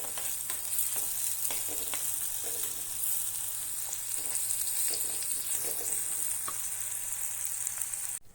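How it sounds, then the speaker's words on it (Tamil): Broken dried red chillies sauté in a pan with a steady, crackling sizzle, broken by scraping stir strokes at intervals, close and continuous until an abrupt stop near the end. "இப்போ நல்லா வதங்கிட்டு பாருங்கள்."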